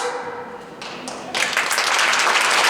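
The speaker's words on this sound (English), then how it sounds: "Please keep clapping as we welcome on stage our chief sister in charge" An audience claps at a Women Economic Forum event in Slovenia, starting as scattered, lighter applause and then swelling abruptly into a dense, loud, steady wash of clapping.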